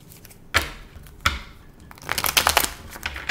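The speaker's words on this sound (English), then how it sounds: "I'm gonna shuffle this up real good" A deck of tarot cards being shuffled close by: two sharp slaps, then a rapid, busier riffle of cards toward the end, with no talking.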